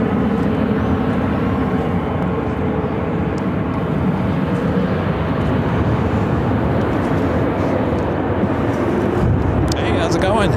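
A DHL converted Boeing 767 cargo jet approaches, its engine roar a steady broadband rumble that stays loud and constant throughout, with a faint whine rising near the end.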